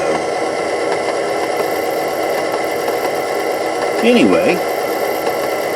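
An Athearn F7B model diesel locomotive fitted with a DCC sound decoder and Scale Sound Systems speakers gives a steady, droning engine rumble that runs without a break, with a short spoken phrase near the end.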